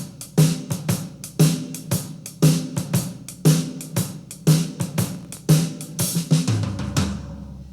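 A drum kit plays a country shuffle across hi-hat, snare and kick in a steady, bouncy looping pattern, close and clear with no voices, ending on a final hit.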